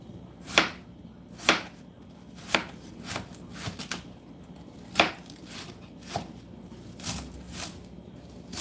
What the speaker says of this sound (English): You want to chop up your onion